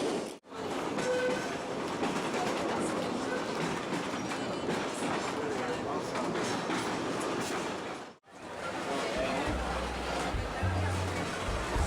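Soller's orange tram in Mallorca runs along its rails with a steady, loud rumbling and clatter throughout, briefly cut twice, with faint voices mixed under the continuous rolling noise.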